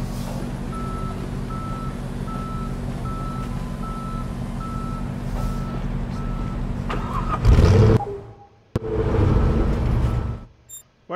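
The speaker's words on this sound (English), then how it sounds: "Tow trucks are arriving" Tow trucks in a police simulator video game arrive and back up, sounding a steady series of evenly spaced reversing beeps over a low engine rumble, followed by louder revving engine bursts near the end.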